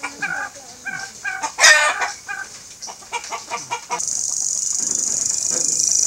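Hens cluck in short repeated bursts close by, with a loud squawk partway through, then a steady high insect-like drone takes over.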